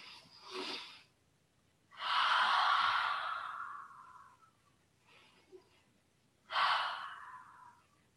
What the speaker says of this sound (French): On en profite pour bien inspirer, même si ça fait un peu de bruit.